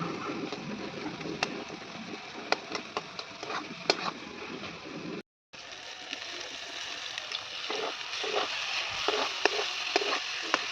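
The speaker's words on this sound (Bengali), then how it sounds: "আবার এটাকে ভালোভাবে ভাজবো, আলুটার সাথে টমেটোটা ভালোভাবে কষিয়ে নেব।" Potato and tomato fry with turmeric, chili powder and salt in a pan. Repeated scraping stirring strokes sound over a faint, steady sizzle, with a short pause midway and no talking.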